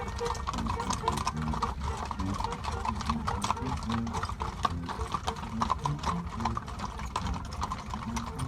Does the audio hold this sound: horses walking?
yes